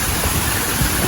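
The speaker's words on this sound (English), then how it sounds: "Water from the waterfall." Waterfall water rushes in a steady, loud, unbroken roar at Little Dunn's River in Ocho Rios, Jamaica, close by and filling the whole moment.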